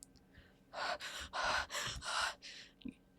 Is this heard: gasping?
yes